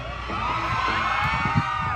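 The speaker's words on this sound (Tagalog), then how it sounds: "Grabing sigawan." Fans screaming and cheering at a live Wish Bus performance, a sustained high-pitched crowd roar with music and voices mixed in.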